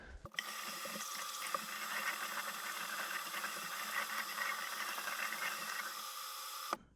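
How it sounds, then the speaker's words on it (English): Tap water runs steadily into a container for about six seconds while Rit-dyed embroidery fabric is rinsed. The flow is a close, even rush with no talking. "I'm going to put them back into this thing and I'm going to fill it up with water."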